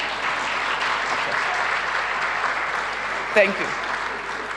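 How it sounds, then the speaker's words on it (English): An audience at a women in science awards ceremony applauds throughout, a steady wash of clapping that fills the hall, while a speaker briefly talks over it near the end. "I thought you will applaud on that."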